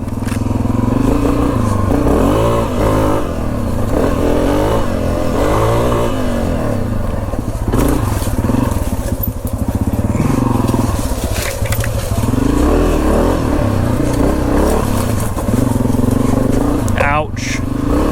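Motorcycle on the move, its engine droning loudly and rising and falling with throttle under heavy wind rush, with a rider talking over it now and then.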